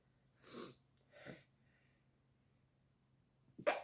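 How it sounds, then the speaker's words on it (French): A single close sneeze, sharp and loud, after a few quieter breathy sounds and a stretch of near silence with a low steady hum. "Attendez, je vais éternuer."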